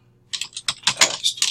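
Typing on a computer keyboard, a short run of crisp, close key clicks in an irregular rhythm after a brief silence, with no talking.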